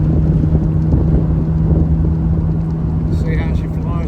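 A 2-litre Morgan Plus 4 roadster accelerates down country lanes, its steady engine drone buried under heavy buffeting wind roar throughout, with a brief higher whine near the end.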